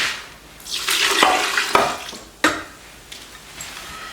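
Water pours into a bowl of sourdough bread dough ingredients in a home kitchen, a splashing stream that builds for a couple of seconds, with a sharp knock partway through and a faint trickle at the end.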